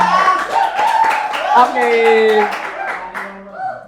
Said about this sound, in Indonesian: Tepuk tangan lagi mungkin.